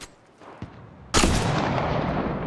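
Gunfire from the video game Apex Legends: a sharp shot near 0.6 s, then a loud blast around 1.1 s that gives way to sustained, dense firing and roar for the rest of the clip.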